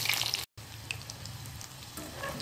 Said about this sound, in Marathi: बारीक गॅसवरती तशा त्या मिरच्या आपण फ्राय करत ठेवायच्या।